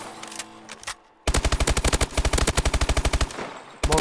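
Submachine gun fire in Call of Duty Advanced Warfare: after a second of quieter game sound, a loud, rapid full-auto burst of regularly spaced shots runs about two and a half seconds, pauses briefly, then resumes.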